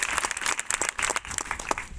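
Scattered, uneven clapping from a small group at a wedding gathering, with light irregular claps over about two seconds at moderate distance.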